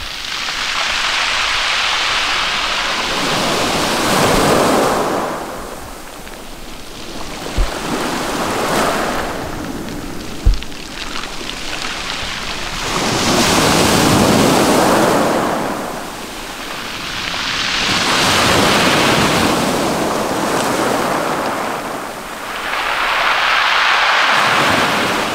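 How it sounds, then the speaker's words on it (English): Ocean waves surge in and wash back over smooth beach rocks on the Maine coast in slow, repeating swells, each rush rising and fading with a hissing trickle of draining water. "The way that the water hits them and then streamlines down makes them really soothing sound."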